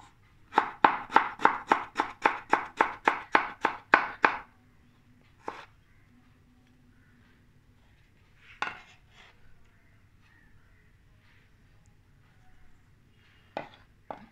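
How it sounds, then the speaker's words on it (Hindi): Garlic and ginger are finely chopped with a knife on a board in a rapid run of about a dozen sharp, evenly spaced chops, followed by a long quiet stretch with a few isolated knocks, close and with no talking. "बारीक लच्छा काट के इसको हमको चॉप कर लेना है।"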